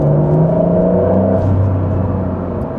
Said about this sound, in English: You get a few whooshes and a few chirps from the turbo at the back